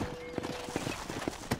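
Horse hooves clip-clop on the ground in Red Dead Redemption, a quick, uneven run of distinct thuds at moderate distance over a faint background hum.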